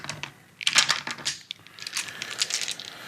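Plastic dice rattle and click as they are scooped up during a Blood Angels versus Space Marines tabletop wargame, with a dense burst of clatter followed by scattered lighter taps; no speech.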